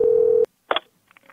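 A telephone line after a caller hangs up, with a steady tone that cuts off abruptly, followed by short clicks and faint line noise.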